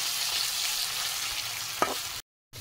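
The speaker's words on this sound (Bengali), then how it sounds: "সেই জন্য দেখুন আলু ভেজে নিচ্ছি।" Potatoes frying in a pan at home, a soft steady sizzle close by with a faint stir sound partway through, no voices.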